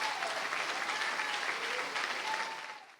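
A church congregation applauds with dense, steady clapping that sounds faint and distant, then fades away at the end.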